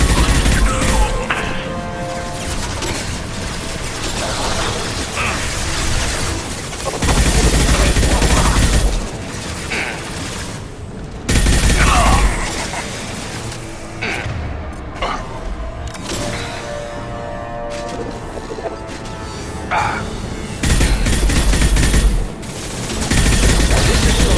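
Video game combat in Mass Effect 2 with dense, sustained gunfire, heavy shotgun-like blasts and loud booming impacts, rising and falling in bursts over continuous battle noise, with occasional voices.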